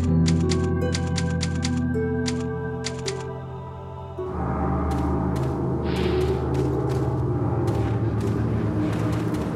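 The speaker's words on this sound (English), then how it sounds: "I like the typewriter sound" Typewriter keys clatter in rapid bursts over sustained music at a save room in the video game Resident Evil 4, the clacks loud and close, giving way to denser ambient sound midway.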